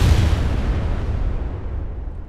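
Grenade blasts in the military video game Arma 3: a loud, deep explosion whose low rumble rolls out and slowly fades, heard alone without talk.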